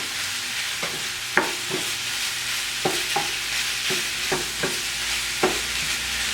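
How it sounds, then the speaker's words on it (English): A spoon stirs onions, black beans, chili powder and cilantro in a hot pan, with a soft sizzle underneath and scattered scraping clicks at an uneven pace. No one speaks. "Stir this all up"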